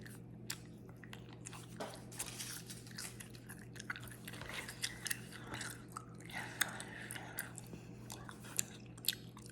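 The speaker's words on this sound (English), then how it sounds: "I'm gonna go ahead and put in another piece of gum" Gum chewing heard up close, with soft wet smacks and small crunchy clicks in an irregular rhythm over a faint steady background hum, with no talking.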